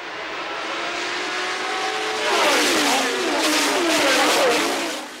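1977 Formula 1 cars roar past on Silverstone's start-finish straight, a loud sustained engine howl with rising and falling pitch as several cars sweep by, swelling in the second half.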